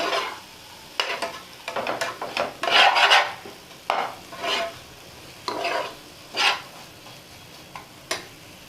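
A spatula scraping and stirring vegetables in a pan in irregular bursts over a faint sizzle, close by, with short pauses between strokes and no speech.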